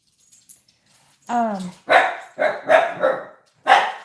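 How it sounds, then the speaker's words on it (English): A dog barks in loud, close bursts, with a short whine followed by four sharp barks spaced unevenly over a few seconds indoors. "Now the whole internet knows you're a bad dog."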